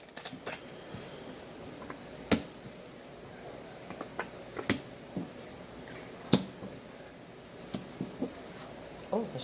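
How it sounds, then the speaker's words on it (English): Tarot cards shuffled by hand, a soft continuous riffle broken by sharp flicks and snaps of cards landing at irregular intervals, close and fairly quiet, with no talking. "you've seen how the cards flip when I shuffle them"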